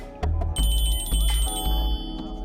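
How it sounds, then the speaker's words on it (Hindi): A mobile phone rings loudly and close by with a repeating electronic ringtone melody of bright tonal pulses, heard alone in a coffee shop setting. "बज रहा है आपका फोन।"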